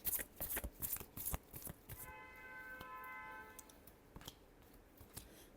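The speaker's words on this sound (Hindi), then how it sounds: "Last shuffle." Tarot cards being shuffled by hand, a quick burst of riffling and flicking near the mic, followed by a faint ringing tone and a few soft taps.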